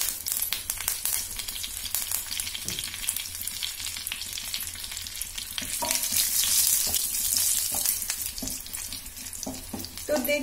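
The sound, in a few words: cumin and curry leaves sizzling while frying for moong dal khichdi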